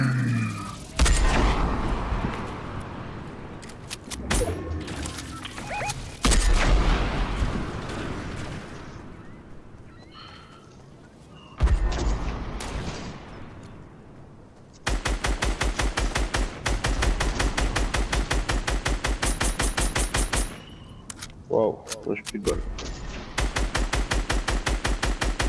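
Loud automatic gunfire in the Fortnite video game, arriving first as scattered shots and short bursts, then as long, dense streams of rapid rounds with only brief pauses between them.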